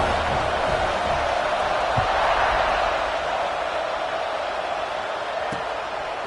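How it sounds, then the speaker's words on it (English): A college football stadium crowd roaring at kickoff, a dense, sustained wash of cheering that holds steady and slightly fades, with a couple of faint thuds beneath. "They're set to kick it off, and this crowd now ready to get behind them"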